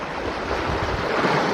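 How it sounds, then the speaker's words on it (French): Strong river current swollen after rain near Mount Sunday, New Zealand, a steady broadband rush of water, loud and continuous throughout with no voices. "Il a plu pas mal hier, donc tu l'entends, le courant"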